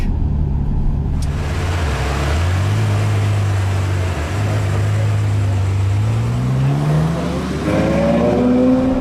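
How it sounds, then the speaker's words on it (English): A Ferrari 812 Superfast's 800-horsepower V12 drives on the Fiorano track, heard from inside as a loud, continuous engine drone that dips briefly between gears, then climbs steadily in pitch as it accelerates. "driving the very latest V12 from Ferrari in the motherland at Fiorano on track"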